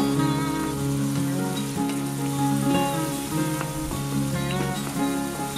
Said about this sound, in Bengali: এর মধ্যে দিয়ে দেব পেঁয়াজ বাটা দেন আদা বাটা দিয়ে হালকা ফ্রাই করব